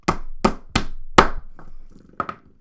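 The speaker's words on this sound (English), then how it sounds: "I wouldn't recommend hammering it" Four crisp, close knocks come as bearings are hammered out of a fidget spinner, followed by a few softer, scattered taps.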